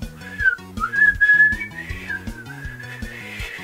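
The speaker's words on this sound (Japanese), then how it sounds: "左手を緑の円に置いて、あなたのお気に入りの歌を口笛で吹いてください。" A person whistles a melody, the tune rising and falling clearly over a steady rhythmic backing of low musical notes.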